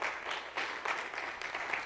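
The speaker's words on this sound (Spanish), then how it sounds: "Den un aplauso al Señor." A church congregation applauds, a soft, steady patter of clapping hands with faint voices in the background, fairly distant and quiet.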